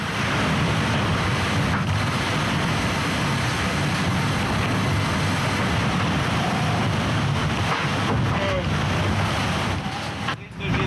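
Loud, continuous rush of waves and spray around a racing sailboat at sea off the Breton coast, steady wind noise buffeting the microphone throughout with no pauses.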